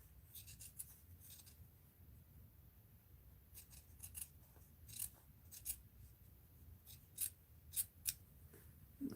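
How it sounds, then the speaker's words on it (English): Scissors snip through fabric while nutcracker fabric cluster crafts are being made, giving a series of short, crisp, close cuts spaced irregularly over a quiet background. "Let's snip that off there."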